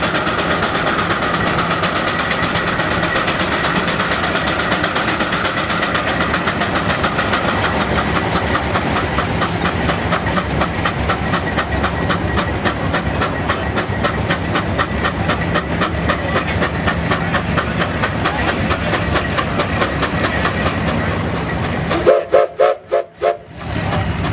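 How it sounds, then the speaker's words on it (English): A large Case steam traction engine pulls a five-bottom and a four-bottom plow at a vintage farm show, giving a loud steady chugging rumble throughout, with a few sharp louder bursts near the end. "This big case monster, big case steamer."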